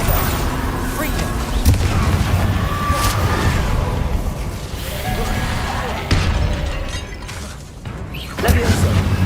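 Bombarda spell blasts in Hogwarts Legacy, several booming, shattering explosions over a steady rumble of game sound and music, with a voice speaking at times.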